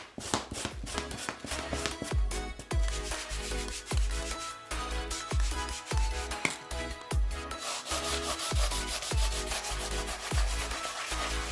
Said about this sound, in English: I'm just gonna scrub it in with a stiff bristle brush